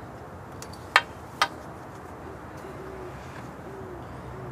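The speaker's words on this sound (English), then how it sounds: "You hear the owl? I got an owl back there." Low owl hoots drift faintly from a distance outdoors over a steady background hum, with two sharp knocks near the start.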